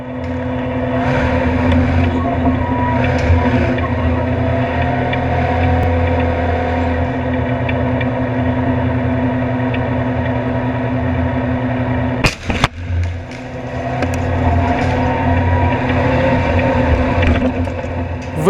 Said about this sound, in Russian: Танк снова взбирается на груду битого кирпича.